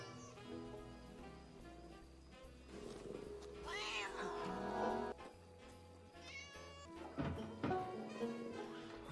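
A cartoon cat meows and caterwauls over a busy musical score, its wavering cries rising loudly in the middle and returning briefly near the end.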